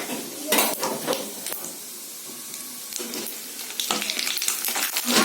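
Whole dried red chillies and cumin seeds crackle and sizzle in hot oil at home, with repeated bursts of metal utensil scraping and stirring against the pan and quieter gaps between the strokes.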